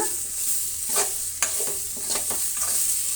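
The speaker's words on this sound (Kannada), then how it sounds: "ಇವೆರಡನ್ನು ಕೂಡ ಈಗ ಒಂದು ಅರ್ಧ ನಿಮಿಷದಷ್ಟೊತ್ತು ನಾವು ಫ್ರೈ ಮಾಡ್ಕೊಳ್ಳೋಣ" Cumin seeds fry in a hot pan as a steady, close sizzle with brief crackles and stirring scrapes throughout, with no voices.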